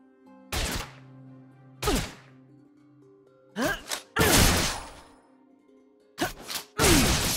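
Rifle shots from Caitlyn in League of Legends, in the Arcane skin: several sharp, loud cracks with whooshing tails, spaced a second or two apart, some in quick pairs.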